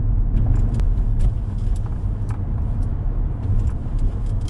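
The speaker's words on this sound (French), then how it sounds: "à chaque passage de rapport, on a un petit retour là dans les échappements" A Mercedes CLA 45 AMG Shooting Brake engine drones low and steady, with a few sharp little exhaust pops and crackles on gear changes scattered through the run.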